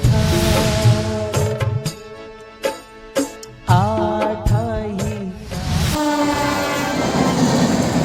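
The 12621 Tamil Nadu Express, coming from Chennai Central via Nagpur and Bhopal, arrives at platform 4 of an Indian railway station. Loud, sustained horn blasts with shifting tones ring over the rumbling clatter of the rolling train.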